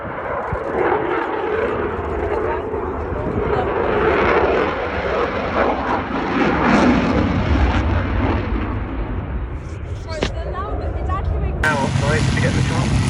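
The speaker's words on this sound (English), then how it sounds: "from a pair of Eurojet EJ200 afterburning turbofans" Fighter jet powered by a pair of Eurojet EJ200 afterburning turbofans at the RAF Cosford airshow, a loud sustained roar swelling and fading as it passes, with crowd noise and a voice near the end.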